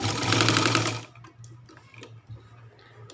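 A sewing machine stitches fabric along the center seam of a sharara, running fast and loud for about a second, then stopping and leaving soft ticks and handling noises.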